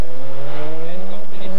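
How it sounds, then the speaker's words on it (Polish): Rally car with an uprated engine racing at speed during the 1991 Barbórka Rally, a loud, close engine roar rising in pitch as it revs hard over a brief moment, with a commentator speaking over it. "Ma mocniejszy silnik, jedzie bardzo szybko."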